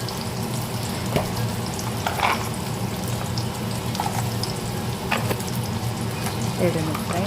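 Onion and garlic fry in hot oil in a pan, giving a steady close sizzle with occasional stirring clinks, while a person talks over the cooking.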